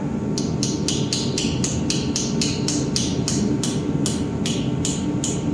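A steady run of metallic taps, a small hammer striking an old screwdriver used as a punch about twice a second, close up over a loud background hum.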